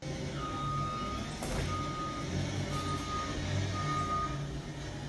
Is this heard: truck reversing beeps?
yes